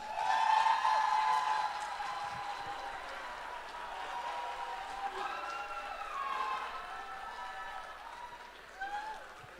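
Conference audience at a summit applauding and shouting, a loud crowd burst at first that settles into steady clapping with scattered cheers and voices mixed in throughout.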